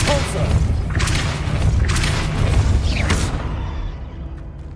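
The Depulso spell cast in the Hogwarts Legacy video game: several whooshing bursts with thumping booms at roughly one-second intervals over a dense, loud game background, ending in a fading tail.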